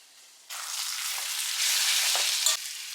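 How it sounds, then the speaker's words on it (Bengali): Shredded chicken hits a pan of tadka masala and sizzles loudly and steadily, with light stirring scrapes through the frying hiss. "এবার এর মধ্যেই না আমি শ্রেডেড চিকেনটা অ্যাড করে দিচ্ছি"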